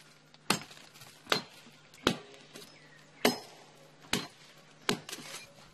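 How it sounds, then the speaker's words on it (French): Sharp machete strikes land on a tree trunk at a steady pace, six crisp chops about a second apart, close by in a quiet setting. "Il le fend à l'aide d'une machette."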